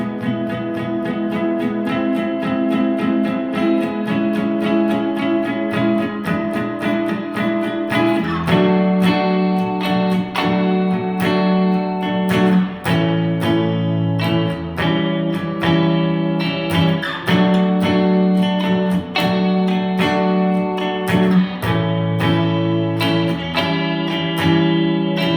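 Electric guitar playing the pre-chorus of a song, with strummed chords and rhythmic picked accents, moderately distorted, loud and close, with no voices.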